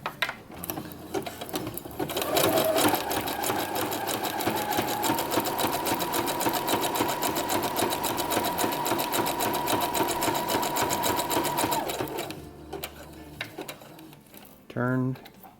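A sewing machine stitches a seam at the edge of fabric for a Star Wars jumpsuit pocket, a steady rapid mechanical chatter running for about ten seconds close up, then stopping, with brief clicks and a short voice afterward.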